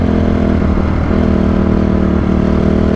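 A Honda CRF 250R dirt bike engine runs loud and close with a steady throbbing tone and slight pitch wavers during power pulls while being broken in.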